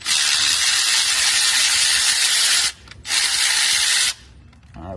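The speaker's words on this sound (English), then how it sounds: "get a 14 deep socket or a 14 with an extension. Break the 14mm bolt loose." Ratchet turning a 14mm bolt on an Infiniti M35 alternator, a loud close rapid clicking whir in two long bursts with a brief gap between, then fading into quieter handling.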